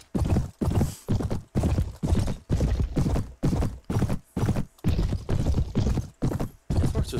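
Horse galloping in the video game Mount and Blade Warband with the Floris mod, a fast, rhythmic series of loud hoof beats in regular bursts, close and clear, with no talking over it.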